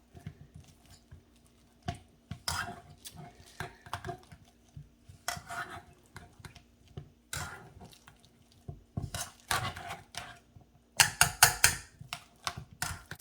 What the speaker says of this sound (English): So we're just gonna keep mashing this up.